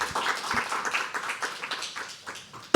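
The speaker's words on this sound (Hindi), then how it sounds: "एक बार जोरदार तालियां आ देते" A small audience at a live poetry open mic claps after a recitation, scattered uneven applause at close range that thins out over a few seconds, ending in a sudden loud bump.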